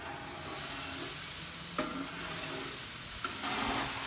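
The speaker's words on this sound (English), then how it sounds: "I'm gonna move it towards the cooler side of my griddle" Shrimp pancit made with spaghetti noodles sizzling on a Blackstone flat-top griddle, a continuous frying hiss with a couple of soft scraping strokes as the noodles are pushed across the hot surface.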